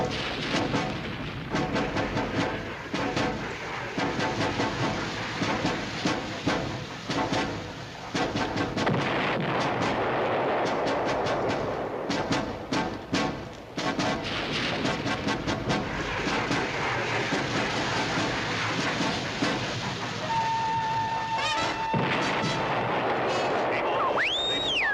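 Artillery fire in a war TV drama: a dense, continuous roar of booming blasts and rumbling explosions, loud and sustained, with a whistling tone near the end.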